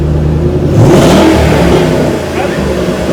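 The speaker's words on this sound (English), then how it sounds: "No, start it. Rev it." A 2013 Shelby GT500 engine revs up once from idle, swelling loudly and then settling back to a rumbling idle, heard close with an engine bay whistle.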